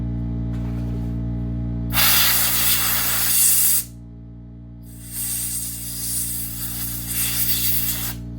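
Two strong blasts of compressed air hiss loudly, the first about two seconds long, the second longer and slightly uneven, over a steady low machine hum.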